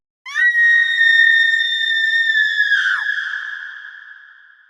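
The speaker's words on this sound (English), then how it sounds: "A few steps later, they heard the woman scream again." A woman's single long, high-pitched scream, loud and sustained, slowly fading with a slight echo.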